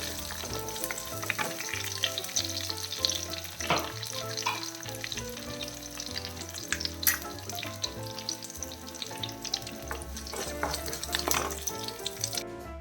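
Grated coconut sautés in a pan for a squid curry, a steady sizzle with stirring and scraping that runs under continuous background music.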